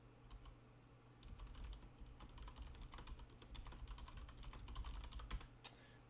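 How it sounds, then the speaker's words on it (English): Steady typing on a Logitech G710 Plus mechanical keyboard with brown switches, a fast run of clicky keystrokes close by, continuous for several seconds and building toward the end, with no talk over it. "Nice typing sound. I use a Logitech G710 Plus"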